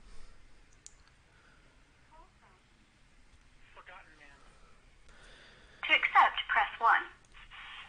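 Telephone line connecting on a call-in radio show, a few faint clicks and line noise followed by a louder burst of a caller's voice coming through the phone.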